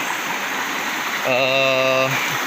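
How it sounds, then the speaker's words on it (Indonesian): A clear river flows through village forest at Blangtemu, Gayo Lues, giving a steady, close rushing hiss throughout, with a short humming tone rising over it near the middle. "Nah, lihat ini sungai begitu indah."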